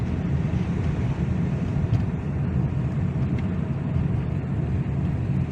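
Heavy road traffic in falling snow makes a steady, loud rumble of engines and tyres, continuous without a break and with no voices over it.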